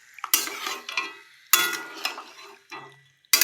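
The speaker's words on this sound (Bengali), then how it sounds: "মশলা তো কষানো হয়ে গেছে, এবার ম্যারিনেট করা চিকেনটা এই যে দিয়ে দিচ্ছি এতে।" Marinated chicken with green chillies added to a pan of sautéed spices, then stirred, with bursts of sizzling frying, scraping of a utensil against the pan and light clinks, close and fairly quiet.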